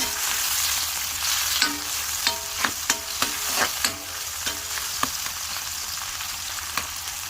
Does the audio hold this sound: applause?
no